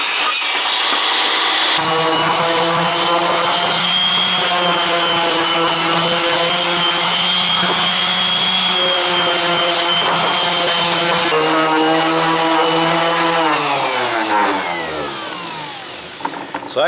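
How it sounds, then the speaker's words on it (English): A loud, steady power sander drones continuously with a buzzing whine while sanding old finish off a wooden roadside table, its pitch dropping briefly near the end as it winds down. "hopefully I can sand all this old finish off"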